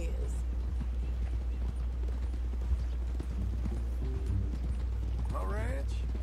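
Horse hooves clip-clop in the Western video game Red Dead Redemption 2, a steady rhythmic trot under ongoing conversation, with a brief neigh near the end.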